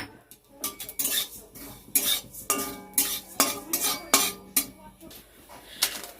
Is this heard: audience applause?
no